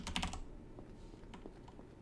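Typing on a computer keyboard during the typing game Blood Typers: a quick burst of close key clacks, then scattered softer taps, with no voices.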